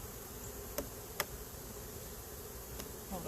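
Honey bees crawl and buzz on a hive frame during an inspection, a close, steady droning hum with a few faint sharp clicks from the frame.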